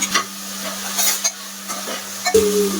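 Ginger garlic paste and finely chopped tomato hit a pan, giving a soft sizzle with a few scraping stirs of a spoon over a steady low hum, close and moderately quiet.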